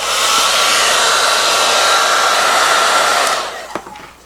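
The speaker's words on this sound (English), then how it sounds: "Now when using your heat gun, you're going to be very careful" A heat gun blows hot air onto a van's roof panel, giving a loud, steady whooshing roar close by for over three seconds before it cuts off, followed by a few small knocks.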